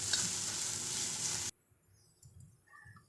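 Chopped onion frying in a spoonful of oil in a home kitchen, a steady loud sizzle for a second and a half that then cuts off abruptly, leaving faint clinks and quiet background.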